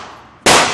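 A .380 pistol fires a single shot: one sharp, very loud, close report that breaks suddenly out of quiet and rings on briefly.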